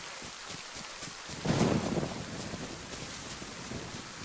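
Rain falls in the survival video game DayZ as a steady broadband hiss, with a brief swell in intensity early on before it settles back into a constant wash.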